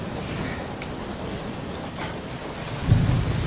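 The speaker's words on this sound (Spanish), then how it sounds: "Maldita tormenta." Thunderstorm in the Deadlight video game: steady loud rain wash with a low rumble of thunder swelling near the end, no voices.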